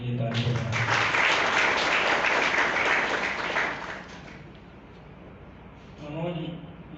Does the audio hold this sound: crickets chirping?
no